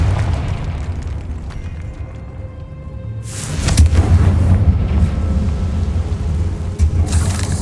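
A Confringo fire spell from Hogwarts Legacy bursts into a loud booming explosion after a quieter stretch, followed by rumbling crackle and a second sharp blast near the end.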